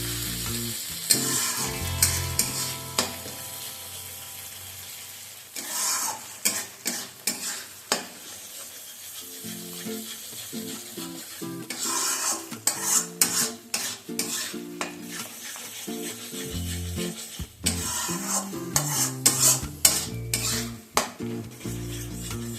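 Spinach and shrimp bharta being stirred in a pan over a low-medium flame: steady frying sizzle under repeated scraping and clinking of a spatula against the pan, close and continuous, with no talk.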